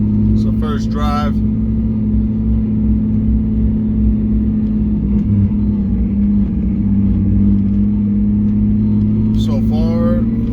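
Nissan 350Z on its first drive after a clutch master and slave cylinder replacement, a steady low engine drone throughout with brief bits of someone talking at the start and end.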